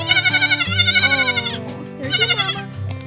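A baby goat bleats loudly and close by in two long, wavering cries with a brief gap between them, its tremulous voice pulsing rapidly throughout.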